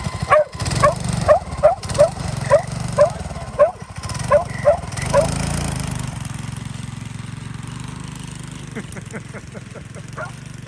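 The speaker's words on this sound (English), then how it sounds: "Is the dog barking?" A dog barks in a quick series of sharp, fairly close barks over an idling car engine at an outdoor car event, then goes quiet as the engine rumbles on and voices talk.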